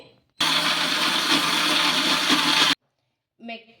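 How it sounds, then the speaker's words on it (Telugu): A mixer grinder whirs loudly and steadily for about two seconds as it purees leftover rice with water, then stops abruptly, followed by a brief faint sound. "దీన్ని మెత్తగా మిక్సీ అయితే పట్టుకోవాలి"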